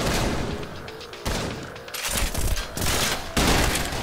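Gunfire in the shooter Trepang2 during a side mission at Site 32, with rapid bursts of loud, close shots arriving in several waves that are separated by brief pauses.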